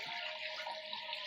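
Water pours steadily into a cooking pot while a goat-head dish is being prepared, a continuous close rushing splash with no talk over it.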